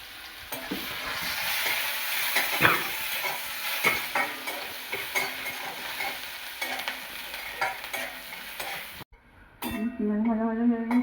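Chopped onion with dried red chilli frying over a low flame in a pan for red amaranth greens chorchori: a steady, close sizzle with intermittent stirring scrapes, then a short pause and a brief voice at the end.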